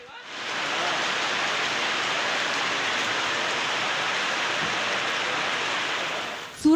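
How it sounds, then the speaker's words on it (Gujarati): Heavy monsoon rain pours steadily and densely in a town area, a loud continuous rushing wash that holds level throughout before a brief sharper sound at the very end. "ખાંભા શહેર તેમજ ગ્રામ્ય વિસ્તારમાં વરસાદથી પાણી વહેતા થયા"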